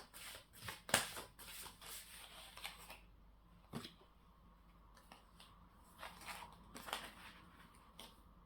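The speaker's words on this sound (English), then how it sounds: "shuffle to do your reading, get some cards out for you" Tarot cards being shuffled nearby, with quick papery riffles and taps in uneven bursts, one sharper snap early on, and soft rustling in quiet pauses, with no talking.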